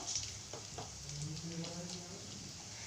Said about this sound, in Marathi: मसाला छान तेलामध्ये परततो